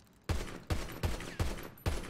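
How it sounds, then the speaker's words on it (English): Five sharp, evenly spaced gunshots ring out in a video game, each a quick punchy crack with a short decay, fairly faint and with no talking. "Stop shooting."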